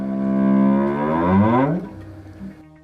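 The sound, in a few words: gravitational wave detector signal slowed down 150 times, a whoop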